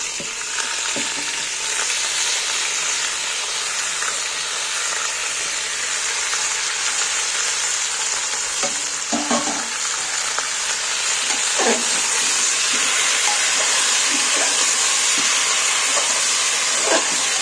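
Chicken meat fried and stirred in a pan for a one-pot chicken dish, a continuous loud sizzle with occasional scraping stirs breaking through, close and steady throughout.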